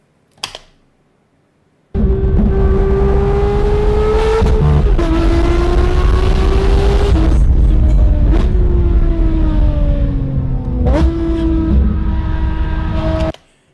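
A Porsche 911 GT3 RS engine fires up after a brief click and roars loudly up close. It revs repeatedly, rising in pitch and dropping back with sharp shifts between pulls for over ten seconds.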